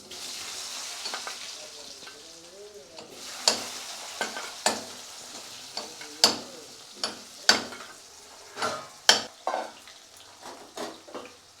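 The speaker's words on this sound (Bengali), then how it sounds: "আলুটা একটু হালকাভাবে ভেজে নিই" Potatoes frying in hot oil with bay leaf and panch phoron, a quiet close sizzle broken by repeated sharp scrapes and taps of a spatula against the pan in an uneven rhythm, with no voices.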